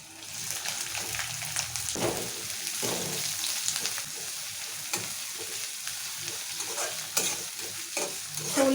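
Chopped onions fry steadily in a hot pan for a chicken curry, a continuous close sizzle with occasional stirring scrapes and clinks throughout, no talking.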